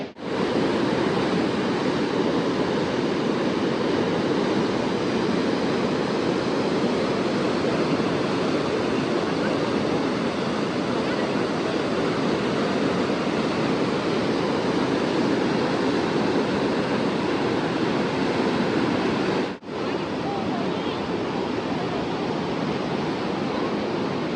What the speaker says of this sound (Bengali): এখানে কিন্তু জলের ফ্লোটা মারাত্মক, প্রচণ্ড পরিমাণে জলের ফ্লো দেখাই